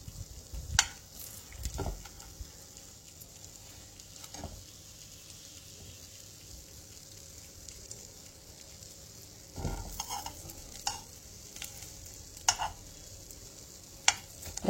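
Arbi leaf pakoda rolls shallow frying in a little oil make a faint, steady sizzle, broken by a few sharp clicks and knocks as the rolls are turned.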